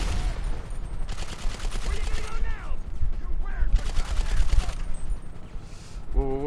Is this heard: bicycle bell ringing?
no